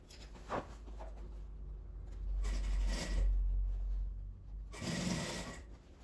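Sewing machine with a presser foot stitching a bag along its seams, heard in a few bursts of running motor and needle rattle, separated by quieter pauses with rubbing fabric handling.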